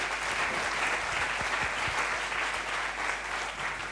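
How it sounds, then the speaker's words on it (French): Steady applause from a conference audience at a marketing talk, dense and even clapping holding for several seconds at a moderate distance, with no speech over it. "On peut les applaudir"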